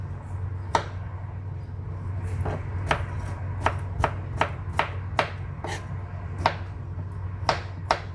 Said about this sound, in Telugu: ఇప్పుడు ముందుగా మనం కర్రీకి కావాల్సిన విధంగా ఇట్లా చిన్న ముక్కలుగా కట్ చేసుకుందాం.